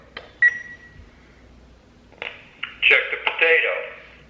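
A kitchen timer being set beside a REC TEC RT-680 pellet grill, giving a few short electronic beeps, with one isolated chirp early and a quicker cluster of bright beeps near the end, while a person talks.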